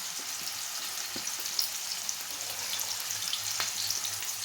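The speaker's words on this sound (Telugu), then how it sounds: "బంగాళదుంప ముక్కలు వేసి ఇవ్వండి" Potato pieces fry in hot oil in a pot, giving a soft, constant crackling sizzle with small pops, fairly faint and uninterrupted.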